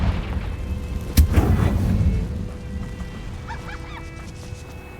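A single booming blast from the Confringo spell in Hogwarts Legacy strikes sharply and then rumbles away over a couple of seconds, leaving a softer game ambience with faint chirps behind it.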